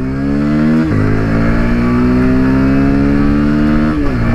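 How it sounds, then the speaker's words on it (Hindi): Bajaj Pulsar 125 E20 BS7 motorcycle ridden at high speed, a loud, steady, high-revving engine drone held near the rider with a brief gear-shift dip and pitch change, no talking. "सबसे पहले तो देखो यार थोड़ा सा बाइक को हाई स्पीड पर राइड करके देखते हैं"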